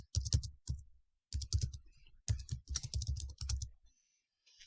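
Bursts of rapid keystrokes on a computer keyboard while a time zone is entered during a software setup, close and clear, in several clusters separated by short pauses.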